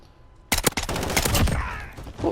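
Full-auto gunfire in the video game Modern Warfare, a sudden rapid burst of loud close shots that runs into a continuous rattling stream for about two seconds.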